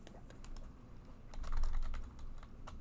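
Computer keyboard keys clatter in quick irregular bursts while C# code is typed, close and clear, with a heavier flurry midway and no talking.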